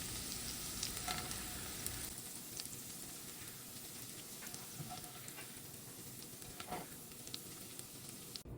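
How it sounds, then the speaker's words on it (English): Sautéed onions tipped from a skillet into a pot of baked beans, giving a steady, even sizzle with scattered soft clicks and pops across the whole stretch and no talking. "So I'm going to take these onions directly from this skillet and add them to my baked beans."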